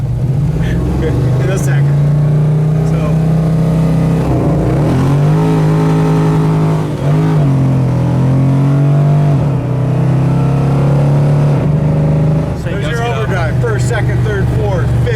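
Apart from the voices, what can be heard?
1970 GTO 454 dual quads engine starting and accelerating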